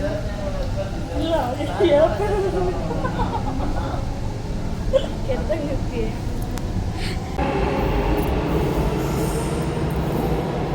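A metro train near Mantri Square, Malleshwaram, rumbles steadily along the rails with a continuous low roar and some wheel squeal, while people talk over it.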